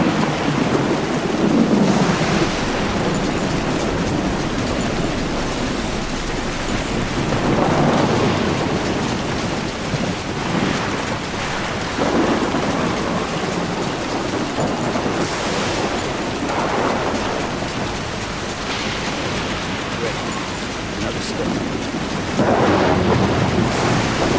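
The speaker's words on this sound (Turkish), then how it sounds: "Nasıl bir fırtına var ya?" Heavy rain pours without pause through a thunderstorm, with deep rolls of thunder swelling and fading several times over the steady roar of wind and water.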